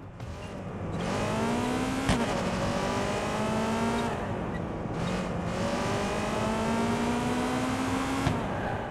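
A car driven in Watch Dogs 2, its engine droning steadily and climbing in pitch through gear changes, with a couple of sharp clicks or impacts, loud and continuous without talk.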